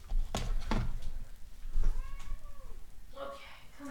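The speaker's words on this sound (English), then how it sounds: "Alright, I'm gonna grab my cat for a second." A pet cat meowing indoors, a few drawn-out rising and falling meows spread across a few seconds, close and fairly loud, with a person talking nearby at the start.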